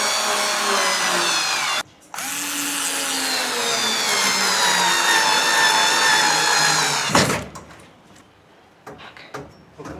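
Electric drill boring into a ceiling to fit mounting screws for a bladeless ceiling fan, a loud whining drone with a brief pause, then an abrupt stop followed by faint scraping and handling noises.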